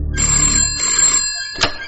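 A telephone rings loudly in one bright electronic trill, then a brief second burst begins before it cuts off.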